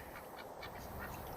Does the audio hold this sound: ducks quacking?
yes